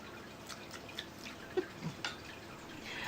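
Water drips faintly in a dark, calm, cool room, a few soft, scattered drops falling close by over a low, steady background with no talking.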